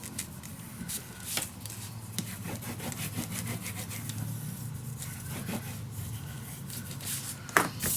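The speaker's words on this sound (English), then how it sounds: "Take your time to burnish it down, guys." A paper folio is burnished down by hand, producing a continuous close rubbing and scuffing sound with a few sharper brushes and taps along the way, with no one speaking.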